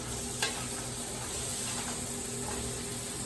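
Steaks sizzling on a smoky grill, a steady, soft frying crackle running throughout with a faint tick near the start, no voices over it.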